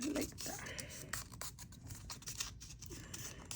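Paper being folded along its cut lines for a superhero 3D number craft gives soft, continuous scraping and rustling, close and fairly quiet, with a few crisp creases.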